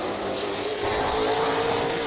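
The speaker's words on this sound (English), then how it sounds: "Eric Della Riva on his warm-up lap" A late model race car circles Sunset Speedway on its warm-up lap, its engine drone steady and fairly close, rising slightly in pitch as it passes.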